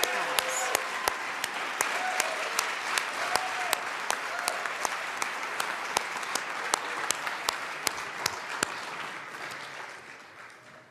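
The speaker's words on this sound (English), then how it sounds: "Let's give them a round of applause." Legislators and guests in the Colorado House chamber give a round of applause, steady clapping across a large room with some sharp nearby claps standing out, tapering slightly toward the end.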